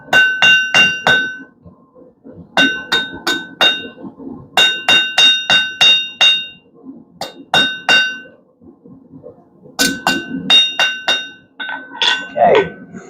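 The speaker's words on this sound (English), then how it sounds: "your hammer blows just get progressively stronger as you go down" Rapid bursts of ringing hammer strikes on hot steel while forging a hot dog fork, several quick blows per burst with pauses between, loud and close, the clangs growing stronger toward the end.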